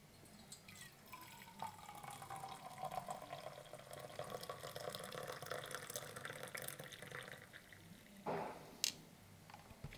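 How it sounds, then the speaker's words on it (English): Coffee poured from a Snow Peak Cafe Press CS-111 French press into a mug: a steady liquid trickle running continuously for several seconds, close and moderately quiet, ending with a brief clink or splash near the end. "Now it's time to pour it into the mug."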